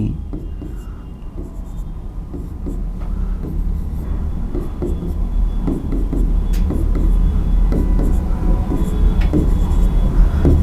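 A marker writes short labels onto points of a reasoning diagram, giving a steady run of soft scratchy strokes over a constant background rumble, with no talking.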